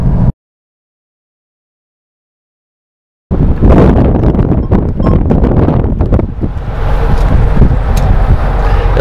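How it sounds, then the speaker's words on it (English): Strong Great Plains gusts batter the microphone with loud, rough rumbling and crackling, after a brief silent gap near the start. "Flipping windy out there, I'll tell you that."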